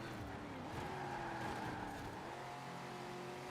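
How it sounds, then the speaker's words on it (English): A heavy 1969 rear-wheel-drive car in a racing game revs hard through first gear off the line, its engine note climbing and rasping continuously with faint tire scrub, close and loud with no voices. "As it just rips through first gear."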